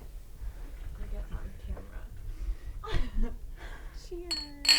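Glasses clink together in a whiskey toast among a small group, a few short bright taps near the end following cheerful talk and cheers from several people.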